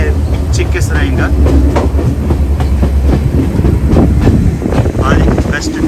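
A Sri Lankan train rolls along its rails with a steady rumble, repeated wheel clicks and constant wind buffeting the microphone. The sound stays close and loud throughout, and faint voices come and go beneath it.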